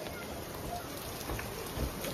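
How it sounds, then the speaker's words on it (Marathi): Heavy unseasonal rain pours down at night over an outdoor show setup, a dense, steady hiss with low rumbling underneath, close and continuous, with faint voices in the background. "दबाके पाऊस लागलेला आहे"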